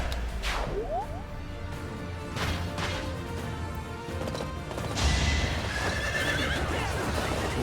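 A horse neighs loudly in Fire Emblem: Three Houses, followed by hoof clops and a sharp crash amid dense, busy game sound effects.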